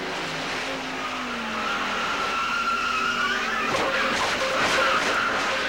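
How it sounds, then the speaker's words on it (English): NASCAR race cars at Charlotte, engines roaring and tires squealing as the pack goes through a skid, loud and sustained with no talk. "Speaking of NASCAR, here we are at Charlotte."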